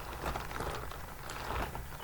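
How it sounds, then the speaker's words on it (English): Close, steady crinkling and squishing of latex, soft wet-sounding rustles with a couple of slightly louder squeezes, no voices. "squishing it together or ruffling it like this"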